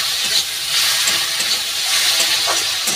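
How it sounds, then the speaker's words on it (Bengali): Green and dried chili frying in hot oil, giving a steady, close sizzle with a bright hiss that runs evenly through the whole stretch, with no voices. "ভালো করে আমি এটা ভেজে নেব।"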